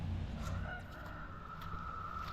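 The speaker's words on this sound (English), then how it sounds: "Got the chicken, got the rooster going across the thing, across the yard." A rooster crows in a cold yard. Its call is a single drawn-out crow that carries over a steady low rumble of background noise.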